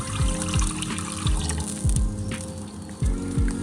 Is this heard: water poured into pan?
yes